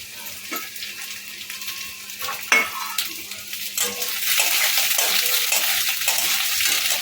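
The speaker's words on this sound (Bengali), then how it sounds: "কেটে রাখা পেঁয়াজগুলো দিয়ে দিলাম" Chopped onions hitting a pan and frying on high flame for Bengali chilli cauliflower, a bright crackling sizzle swelling louder and denser after a few scraping stirs, close and steady with no voices.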